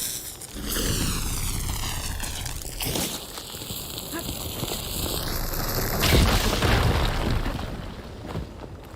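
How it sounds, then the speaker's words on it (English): A fire blade blowing up in Horizon Forbidden West: a loud booming explosion with a rumbling burst of debris, over a dense game mix of rising machine-like tones and background effects. "Should be able to blow up that fire blade."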